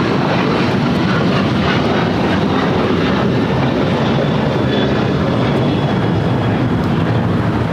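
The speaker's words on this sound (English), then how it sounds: "This is United Airlines 2361 taking off to Bozeman on 737-800." A United Airlines Boeing 737-800 taking off at LAX gives a loud, steady, broadband jet roar that holds evenly from start to finish, with no voices over it.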